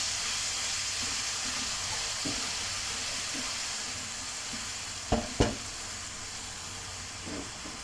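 Steady loud sizzling of chicken fajita frying over high heat in a hot pan, a continuous crackling hiss with a couple of sharp clanks from stirring partway through.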